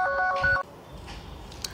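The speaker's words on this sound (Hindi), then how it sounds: "तो आप देख सकते हैं मेरा फ़ोन रिंग कर रहा है" A smartphone rings through a remote play-sound tracking feature, a short electronic tone pattern that cuts off abruptly after about half a second, followed by quiet room noise with faint clicks.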